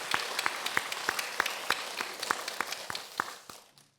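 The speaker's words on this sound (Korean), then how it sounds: "여러분, 우리 함께 박수로 하나님께 감사의 마음 올려드리면 좋겠습니다." A church congregation claps together in a slow, even rhythm, each clap sharp and distinct over a soft wash of background applause, the sound fading out over the last moment.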